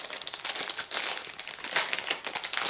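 Plastic packaging of a diamond painting kit crinkling and crackling up close as it is opened, in quick irregular bursts of rustle with no talk.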